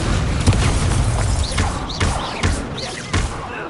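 Spell effects in a Hogwarts video game, including an Incendio fire spell, come as a series of muffled booming thumps at irregular intervals, with whooshing sweeps over a busy background.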